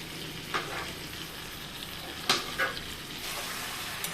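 Aloo bokhara plums fry and get stirred in a pan with ginger and garlic, giving a soft, steady sizzle with a few scattered spatula scrapes and clinks, fairly quiet and with no talking.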